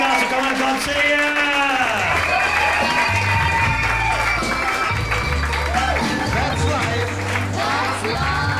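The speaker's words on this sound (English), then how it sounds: "Give yourselves a round of applause." A comedy club audience in Newcastle applauds and cheers loudly and steadily, with whoops and voices mixed into the dense, sustained clapping throughout.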